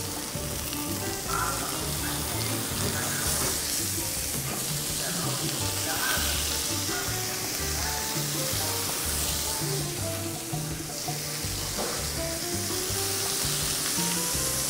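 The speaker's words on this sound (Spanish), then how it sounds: "dejamos dorar un poquito los vegetales así antes de agregar líquido" Carrot, bell pepper and celery with a splash of lemon juice sizzle steadily while browning in a pan for a chicken escabeche, a continuous loud frying hiss with faint stirring, and no talk.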